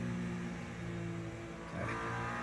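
A hypercar in the racing game Le Mans Ultimate passes by with a steady droning engine note, then a quick pitch shift as it goes past, loud and close throughout.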